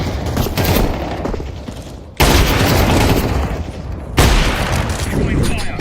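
A grenade blast in Counter-Strike 2: loud, dense roaring noise with sharp onsets around two and four seconds, sustained heavy rumbling throughout as if several explosions and bursts of fire overlap up close.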